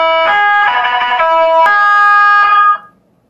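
Custom horn sound effect played through an Adafruit sound board on an Arduino Nano, a loud siren-like electronic tone that wavers in pitch for nearly three seconds, then cuts off sharply.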